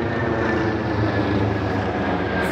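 An ambulance helicopter passes overhead during a sunny autumn walk, producing a continuous loud, broadband engine and rotor roar that holds steady throughout.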